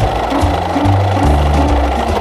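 A sewing machine runs steadily while stitching patchwork fabric for a quilted cosmetic bag, its loud, close motor hum and rapid needle chatter shifting pitch slightly as the speed changes.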